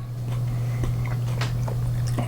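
Someone chewing a Red 7-pot Bubblegum chili pepper close up, with soft, irregular wet crunches and bites over a steady low hum.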